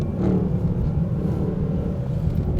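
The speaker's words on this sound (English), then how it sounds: "I love the sound of it. I mean, that is what an American V8 should sound like." A Mercedes SLS GT V8 on a track gives a steady, deep, loud rumbling roar from inside the cabin, holding a constant drone with slight swells throughout.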